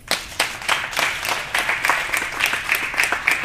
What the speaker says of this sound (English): So you guys give yourself a round of applause.